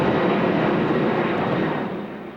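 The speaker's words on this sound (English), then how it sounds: "the skies were once again filled with the sounds of airplanes" A broad, roaring jet engine rumble from an airliner over Los Angeles near LAX fills the air, loud and steady before fading slightly as the plane passes.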